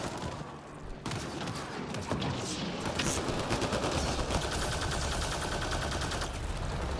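Gunfire in a video game mission, heard as a dense, continuous crackle of rapid shots and distant booms that fills the whole stretch at moderate loudness without speech.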